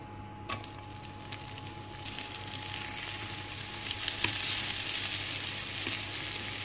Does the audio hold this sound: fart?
no